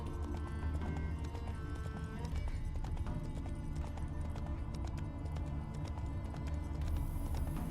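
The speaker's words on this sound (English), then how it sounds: "Hiya! Run, Roach." A horse gallops in The Witcher 3 video game, with dense, rapid hoof clip-clops running steadily and loud throughout, alongside game music and ambience.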